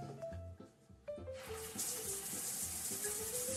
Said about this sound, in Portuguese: você vai abrir seu chuveiro, ó.